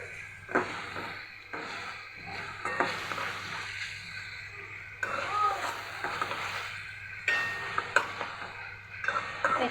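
Turmeric and chili powder masala frying in a pan over lowered heat while it is stirred, with a steady soft sizzle and scraping stirs running throughout, close and moderately quiet, no talking.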